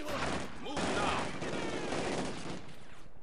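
Rapid bursts of PPSh-41 submachine gun fire in the Company of Heroes 2 video game, dense close-range rattling that runs almost continuously through the moment with a battlefield wash behind it.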